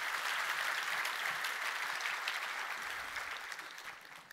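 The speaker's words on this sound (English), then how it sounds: "Can we give one more quick round of applause for Mohit for sharing Jet.com story?" A dense round of audience applause at HashiConf 2017, many hands clapping steadily, slowly tapering off toward the end.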